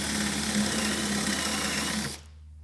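A handheld drill bores a hole into a workpiece at an angle, a steady close whirring drone that runs for about two seconds and then cuts off abruptly.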